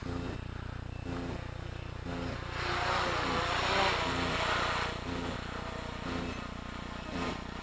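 A small RC model aircraft flies back to land during a radio range test, its motor making a steady buzzing drone that swells louder as it passes nearer, then eases slightly, with a low background hum throughout.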